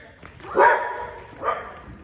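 A dog barks twice at an agility training seminar, two sharp close barks about a second apart, with a handler's voice around them.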